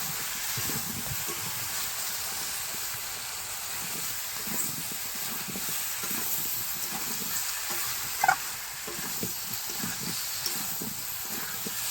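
Ground turmeric fries in a pan while being stirred, giving a continuous soft sizzle with light scraping throughout.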